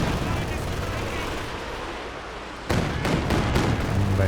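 Machine gun fire in a Company of Heroes 2 match: steady, dense battle noise runs throughout, then a harsher, louder stretch of bursts breaks in over the last couple of seconds.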